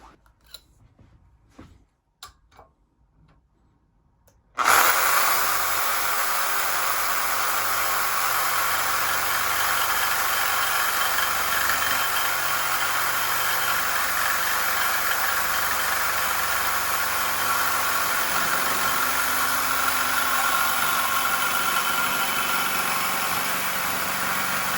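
A reciprocating saw fitted with a metal-cutting blade cuts through pipe, starting after a few seconds of quiet handling clicks and then running as a loud, steady, continuous buzz until the end.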